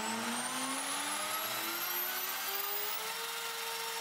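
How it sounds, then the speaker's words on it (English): A 900-watt spindle motor with internal speed control spinning at its lowest setting of 8000 rpm gives a steady, close, loud whine whose pitch creeps slowly upward over the run, heard on its own. "Last candidate is the 900 watts device that has an internal speed control same as the low power motor, but this one works."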